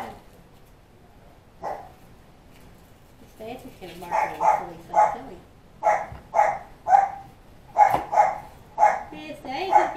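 A small puppy barks in a home kitchen, a run of about a dozen short, high yips coming in bursts close by, with someone talking over the start.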